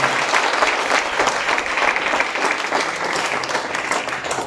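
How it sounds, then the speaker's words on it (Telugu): Audience clapping for their leaders at a Vestige company gathering, a dense, steady roar of many hands sustained at even volume throughout, loud and close with no voices over it. "మీరు వచ్చి ఓన్లీ చప్పట్లు కొడుతున్నారు"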